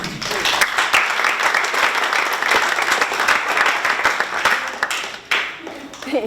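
Library audience at a climate change presentation breaks into warm, steady applause to welcome a speaker, dense clapping that holds for several seconds before tapering, with a voice briefly heard near the end.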